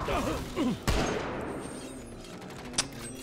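Gunfire in the video game XCOM Declassified, a burst of sharp shots followed by a fainter report, with a voice exclaiming just before.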